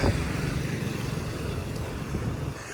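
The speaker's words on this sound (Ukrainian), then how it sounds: "І ще поїхав один тук-тук." A tuk-tuk drives past on a street in Thailand, a steady moderately loud engine drone with traffic rumble throughout and no talking.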